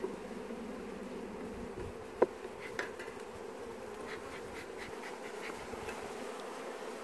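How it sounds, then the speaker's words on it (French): Honey bees buzzing in a continuous low drone as they are shaken off a hive frame, with a sharp knock partway through and a few faint clicks. "On secoue les abeilles"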